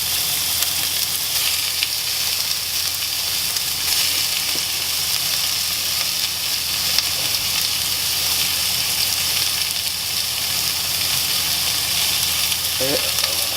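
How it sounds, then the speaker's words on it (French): Strips of meat fry in a pan with a little oil or butter for Japanese curry, giving a loud, steady, continuous sizzle that holds unbroken throughout. "on va faire revenir l'émincé dans une poêle avec un peu d'huile ou du beurre"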